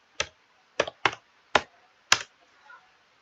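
Five separate keystrokes on a computer keyboard, spaced irregularly, close and fairly crisp, with a fainter tap trailing at the end and no voices.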